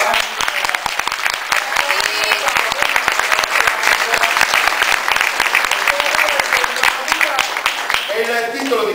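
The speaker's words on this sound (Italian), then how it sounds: "ritroviamo con noi Andrea Piso, applauso." Loud, sustained applause from a crowd fills the scene, dense and steady, fading slightly at the end as a voice returns.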